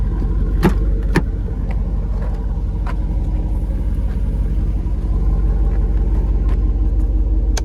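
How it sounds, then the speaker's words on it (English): A 2024 Jeep Wrangler 392 Rubicon idles with a steady, deep exhaust rumble, close and continuous, with a few faint clicks over the low drone. "Can't get enough of that exhaust."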